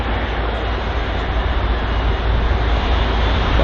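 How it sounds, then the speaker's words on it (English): Jet airliners taxiing at London Heathrow give a steady, loud, broadband engine roar that holds evenly throughout without breaks. "Seems like both aircraft are trying to gain clearance to begin their, to continue their taxi"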